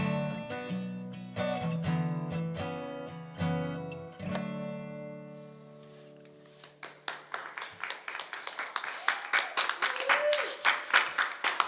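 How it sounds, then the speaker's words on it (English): After a song with sustained piano-like chords fades out, an audience breaks into steady clapping that builds in density and loudness, scattered and lively. "Thank you to everyone who's out there clapping."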